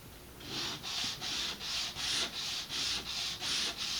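Sandpaper rubbed back and forth by hand over wood to remove burrs on a doorknob piece, about ten even close strokes in a steady rhythm, with no talk.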